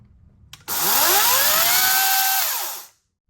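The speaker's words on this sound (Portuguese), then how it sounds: "Já no motor brushless, o freio é bem mais rápido." An Einhell brushless battery chainsaw whines up abruptly and runs at a steady high pitch for about two seconds, then its brake stops it in a fast, falling spin-down, with no talking.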